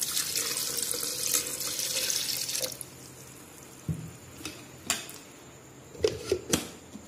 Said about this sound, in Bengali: আর দিচ্ছি পানি।